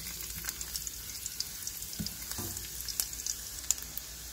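Garlic fries in a hot pan for a Congolese fish and pondu dish, giving a steady close sizzle with soft crackles and a few stirring knocks, no voices.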